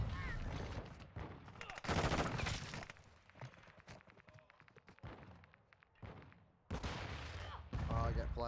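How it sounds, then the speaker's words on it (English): Call of Duty MW2 gunfire, a mix of sharp bursts and rapid shots with loud thuds, rising and falling over several seconds amid other game noise and some voice-like sounds. "Shooting at my own teammates."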